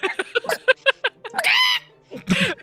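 A person imitates a rooster crowing from a bush, giving a strained, rising vocal crow and then a shorter second call. Choppy spoken syllables come just before it.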